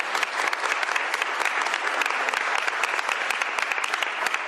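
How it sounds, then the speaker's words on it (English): An audience at a governor's bill signing gives a sustained, even round of applause for a state senator and his team, dense and close with crisp individual claps throughout. "Give a round of applause to him and the team"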